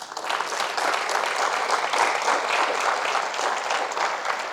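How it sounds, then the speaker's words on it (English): An audience at a retirement celebration gives sustained applause, a dense steady wash of many hands clapping throughout with no pauses. "I think you all deserve a round of applause."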